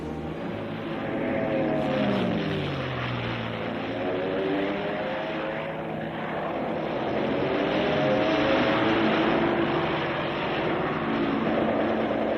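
A P-51 Mustang fighter plane flies past with a sustained droning propeller engine roar, pitch sweeping down and then rising again as it moves, loud and continuous throughout.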